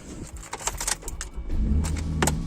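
Keys jangle in quick bursts of bright metallic clinks near an electric wheelchair van, followed by a low steady rumble and a thud as the vehicle is readied.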